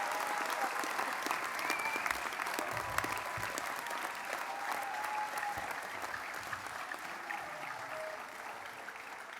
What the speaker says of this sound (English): So, just one more round of applause for all of our graduates this morning.